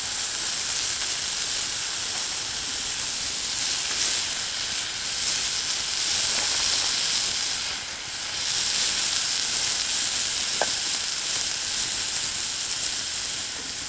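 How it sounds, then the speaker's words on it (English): Venison and chicken of the woods mushrooms frying in a pan beside a creek, giving a loud, steady hiss and crackle of sizzling fat that runs unbroken for about fourteen seconds with no talking. "we'll let that just fry up a little bit"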